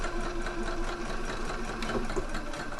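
Sewing machine stitching a shoulder seam on a dress, a steady close mechanical whir with a fast rhythmic needle chatter running continuously throughout.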